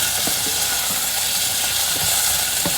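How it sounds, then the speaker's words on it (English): Potatoes and carrots saute in hot oil with ginger and garlic, giving a steady close sizzle with faint stirring clicks throughout. "I like to saute my potatoes in a little bit of oil because it has the fried potato taste"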